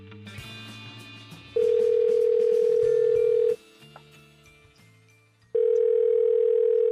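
A steady telephone dial tone sounds loud and continuous in two long stretches, with quieter mixed background sound in between, clear and close as a phone call is set up.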